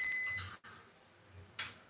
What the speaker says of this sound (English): Okay, the air fryer just beeped